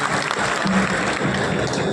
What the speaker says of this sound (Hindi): ताली बजाइए बढ़िया।